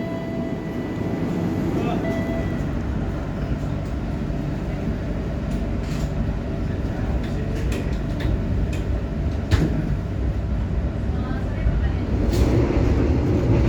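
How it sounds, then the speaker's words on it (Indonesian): The Blambangan Express pulling out of Banyuwangi Kota station in Indonesia, a steady, loud rolling rumble building slightly over the stretch, with faint clanks and a brief knock partway through. "Kereta api Blambangan Express baru saja diberangkatkan dari stasiun Banyuwangi Kota."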